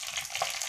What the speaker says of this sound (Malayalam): ഇനി വേപ്പിൻ്റെ ഇല ഇട്ട് കൊടുക്കാം.